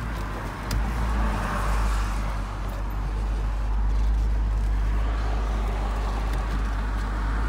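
A car rolls past at close range, a steady broad rumble of engine and tire noise with deep low hum, holding fairly even for several seconds.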